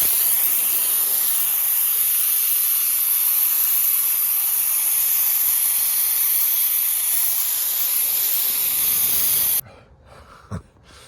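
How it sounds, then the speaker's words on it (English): A handheld steamer blasts a loud, steady hiss onto new replacement seat covers in an F250 truck for nearly ten seconds, then cuts off, leaving quiet room noise and a faint knock near the end. "I just want to try and get some of those out with the steamer."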